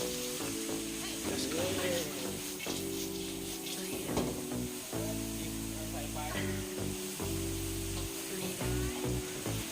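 Field crabs stir-frying with onion in a hot pan, giving a steady sizzle with scraping stir strokes throughout, while someone talks over the cooking and tonal music runs underneath.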